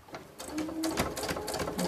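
A sewing machine runs a straight stitch along a tote bag, with a steady, rapid, close mechanical whirr and a rhythmic patter of stitching throughout.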